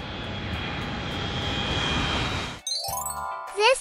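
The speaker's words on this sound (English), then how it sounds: "This is a military transport aircraft." Steady drone of a large military transport aircraft's propeller engine, ending abruptly and followed by bright chiming tones.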